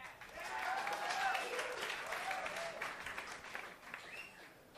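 A club audience at a 1978 concert at The Bottom Line claps between songs, with a few whistles and cheers rising and fading in a fairly distant, moderate crowd sound.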